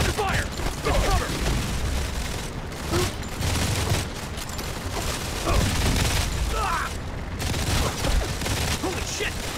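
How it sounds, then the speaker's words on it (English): Gunfire crackles in the mobile shooter Modern Combat 4, with dense volleys and mechanical clatter running throughout at close range. Voices call out over the shooting at intervals. "We're under fire."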